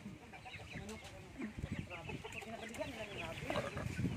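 Chickens cluck and squawk close by in a busy, irregular chatter, with people talking faintly in the background.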